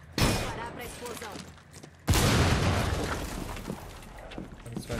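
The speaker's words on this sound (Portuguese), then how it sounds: "Pará pra explosão." An explosion in the Rainbow Six Siege video game: two heavy booming blasts, the second larger with a long rumbling tail of debris, while a player talks over the game sound.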